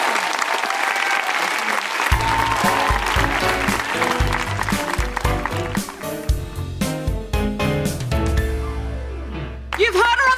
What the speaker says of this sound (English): A big round of applause for Doris and Aloysius